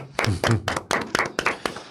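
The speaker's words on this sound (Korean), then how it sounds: "야, 박수." A small studio group claps briefly in a close, uneven burst of about eight hits, applauding a Korean politician who is running for Seoul mayor and appearing as a guest on a talk broadcast.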